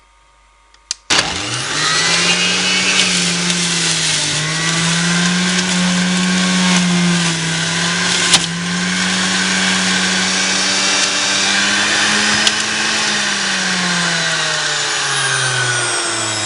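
An Electrolux centrifugal juicer starts with a click, then its motor spins up into a loud, steady whirring hum as it juices apples. The drone wavers slightly as fruit is pushed through and winds down briefly at the end.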